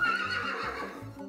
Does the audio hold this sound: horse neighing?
yes